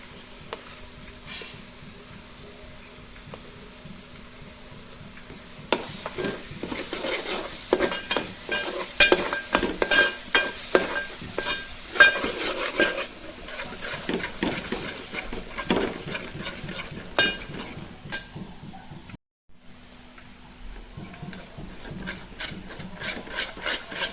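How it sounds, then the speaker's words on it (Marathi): A homemade ground masala paste fries in a pan for prawn masala, with a steady sizzle and repeated scraping strokes of a spatula stirring it close by. The stirring picks up partway through and pauses briefly near the end. "गॅस आपण थोडंसं कमी करू आता आपण ह्याच्यात घालूया जो आमचा वाटण आहे घरचा तो"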